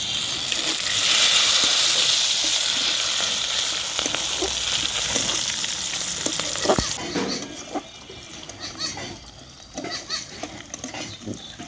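Whole spices including a cardamom pod, cinnamon, cumin seeds and three bay leaves crackling in hot oil, a loud dense hiss at first that settles into softer sizzling with scattered stirring clicks.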